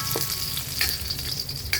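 Chopped onion and garlic sautéing in a hot pan, a steady close sizzle with a few brief stirring scrapes and no voices.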